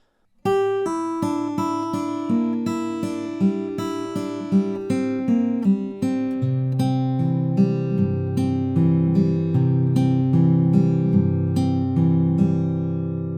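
Fingerpicked acoustic guitar plays the intro of a song, a steady, flowing pattern of plucked notes, with low bass strikes alternating with higher melody notes, clear and close.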